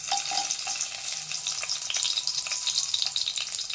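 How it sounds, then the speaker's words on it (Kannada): Garlic frying in a pan with mustard seeds in hot oil for sambar, a close, steady crackling sizzle with bright spitting pops, heard on its own without talk. "ಬೆಳ್ಳುಳ್ಳಿ ಹಾಕಿ ಸ್ವಲ್ಪ ಫ್ರೈ ಮಾಡುವ."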